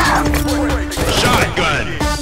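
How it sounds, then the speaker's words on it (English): Loud shotgun blasts and heavy impacts in the shooter Insurgency: Sandstorm, several sharp booming shots in quick sequence mixed with crashing noise and voices talking over them. "Shotgun."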